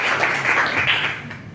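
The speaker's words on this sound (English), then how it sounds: "Give an applause for Mr." Brief burst of audience clapping at a school Model United Nations session, welcoming the delegate of Egypt: a dense, even wash of many hands that fades slightly toward the end.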